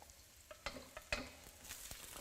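Garlic and garlic chives stir-frying in a wok for char kuey teow, a soft steady sizzle broken by a few sharp clacks and scrapes of a utensil against the pan, close and fairly quiet with no talk.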